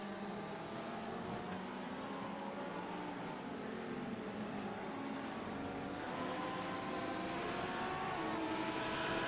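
Race cars in a GP Performance Series stage run on the track as a continuous engine drone, steady and somewhat distant with layered tones, and no voices.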